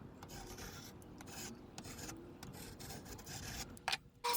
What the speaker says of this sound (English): I'm going to re-scratch over it with the compass so I can get a really nice clean line